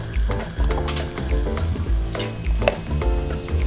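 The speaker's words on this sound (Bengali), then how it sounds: "বাটা মশলা এবং গুঁড়ো মশলা খুব ভালো করে মিশিয়ে আমি কষিয়ে নিচ্ছি" Spice paste and ground spices sizzle in a hot pan during a dried Bombay duck and Malabar spinach curry, with steady frying hiss, intermittent scraping stirs and occasional spatter pops, close and continuous, with no voices.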